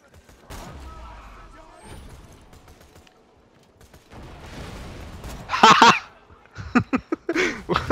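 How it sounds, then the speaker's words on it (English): Grenades fitted with a fireworks mod go off in Borderlands 2, a few sharp crackling bursts near the end after quieter stretches, with several people talking and laughing around them. "We have a grenade mod that makes fireworks."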